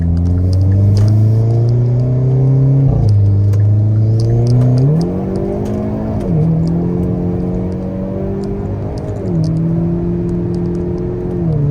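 A Hyundai Kona N's exhaust drones loudly from inside the cabin as it accelerates through several gears, the tone climbing and dropping at each shift.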